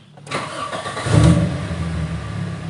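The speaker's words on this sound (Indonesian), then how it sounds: "Kita bawa jalan aja mobilnya, kita starter dulu." A 1993 Toyota Corolla 1.6 SE.G fitted with a non-standard exhaust cranks and fires up, swelling into a short rev before settling into a smooth, steady idle nearby.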